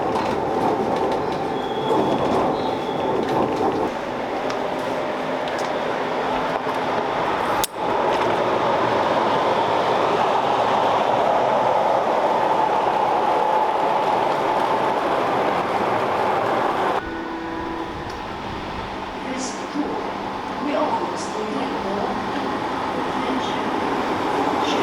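A train pulls into Nässjö station on track 4, a steady loud rumble of wheels with clickety-clack and faint squealing, and a sharp click midway before the noise eases and drops as it slows.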